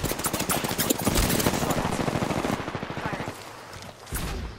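Pistol gunfire from an Apex Legends duos match rattles off in a fast, sustained string of sharp shots, thins out, then one more burst lands near the end.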